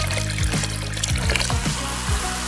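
Fizzy drink bubbling and pouring with a trickling, liquid sound, fairly close and steady throughout, with no talking.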